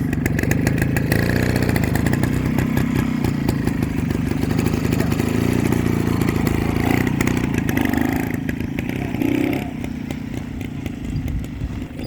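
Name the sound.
Rajdoot Excel T two-stroke motorcycle engine running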